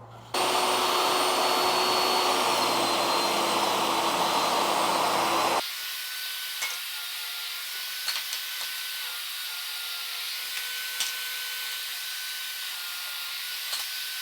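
A saw blade cuts a groove into a wood panel for a 1/4 inch bottom piece while building a custom Hindu mandir, a loud steady whirring grind for about five seconds, then stopping, leaving faint clicks and a quiet room.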